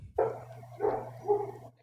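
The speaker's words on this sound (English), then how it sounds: "that barking in the background is the dog that will never stop barking ever" A dog barking in the background, three distinct moderately faint barks spaced evenly apart over a low steady hum.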